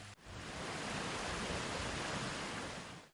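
A dense, steady roar of the Olginsky waterfall in Abkhazia fills the whole clip, broad and constant without any voices.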